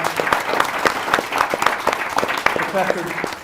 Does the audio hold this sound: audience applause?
yes